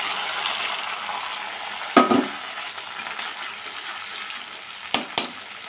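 Ground spice paste with cardamom, cloves and peppercorns frying in a pan, giving a steady broadband sizzle with two brief clatters of stirring or utensil contact.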